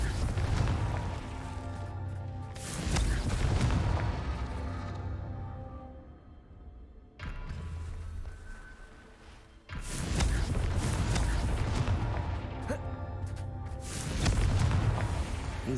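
Confringo blasting-spell explosions in Hogwarts Legacy, heavy booming bursts in several waves with sustained roaring tails and brief quieter gaps between them.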